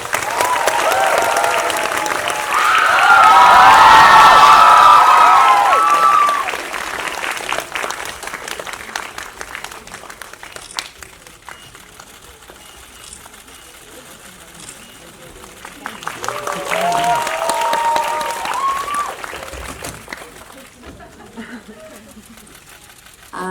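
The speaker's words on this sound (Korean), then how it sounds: "박수로 맞아주세요." Audience applause greeting the director at a movie talk event at COEX, a loud burst of clapping and cheering that fades, followed by a second swell of applause, with a voice speaking between and over it.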